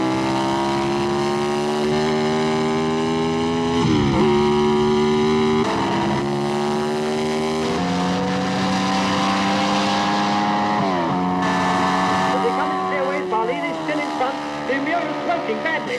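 Open-wheel race car engines from the 1966 film Grand Prix hold a steady, buzzing, high-pitched drone with several gear changes, loud and continuous, while someone talks over them.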